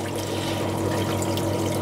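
Water pours during a manual water change on a flowerhorn fish aquarium, a continuous close splashing gush lasting under two seconds.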